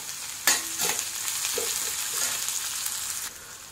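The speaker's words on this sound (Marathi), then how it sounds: "त्यात आपल्याला हे कांदे घालायचे आणि कांदे छान सोनेरी रंग येईपर्यंत आपण परतून घेऊया" Steady sizzling of onions sautéing in a pan, with a few scraping stirs near the start, continuous and fairly close.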